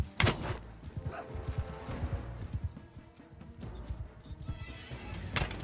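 A horse whinnies in a Mount & Blade 2 Bannerlord battle, loud neighs near the start and end over rapid hoof clip-clops and clattering combat noise.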